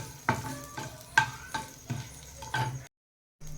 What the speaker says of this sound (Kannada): 1/4 ಸ್ಪೂನ್ ಸಾಸಿವೆ, 3 ಎಸಳು ಬೆಳ್ಳುಳ್ಳಿ ಜಜ್ಜಿರೋದು. ಇಷ್ಟನ್ನು ಲೋ ಫ್ಲೇಮಲ್ಲಿ ಹಾಕಿ ಸ್ವಲ್ಪ ಫ್ರೈ ಮಾಡಿ